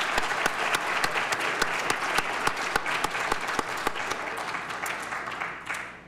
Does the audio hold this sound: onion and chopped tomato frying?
no